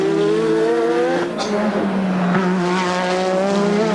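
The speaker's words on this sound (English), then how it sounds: "both these cars, the Ligier in front and the Lotus behind, are powered by identical Renault V6 turbocharged engines" Renault V6 turbo engines in Formula One Ligier and Lotus cars scream continuously at a 1986 Australian Grand Prix practice session, their pitch rising and shifting through gear changes as the cars roar close by.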